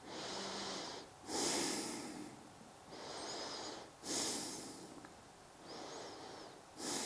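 Slow, deep breathing during yoga relaxation, with close, airy inhales and exhales alternating at an even pace of about three cycles, quiet and alone.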